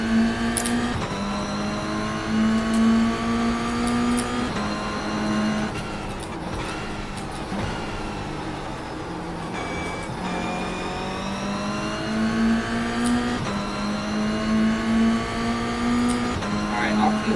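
Race car engines in the iRacing sim howl continuously at high revs, with steady shifts and pitch swings as several cars run close together, loud and dense throughout.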